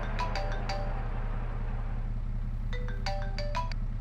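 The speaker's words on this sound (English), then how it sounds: "Sounds like my phone's ringing." A phone ringtone chimes in a survival roleplay video game, playing two short bursts of melodic tones, one at the start and a longer run near the end, over a steady low hum with no talking.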